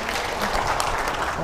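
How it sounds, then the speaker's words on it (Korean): Steady, dense applause from an audience at an indoor training lecture, continuous and fairly loud with no talk. "여러분 뜨거운 박수 부탁드리겠습니다."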